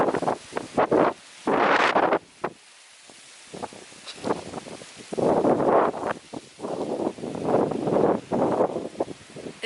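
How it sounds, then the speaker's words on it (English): Strong gusts batter the microphone outdoors in a garden beside raised beds, coming in loud irregular rumbling bursts separated by brief quieter lulls. "It's a really windy day today"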